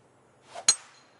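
A single sharp golf club strike on the ball during a professional tournament round, a brief crisp crack preceded by a faint whoosh, heard close and alone with a short fading ring after.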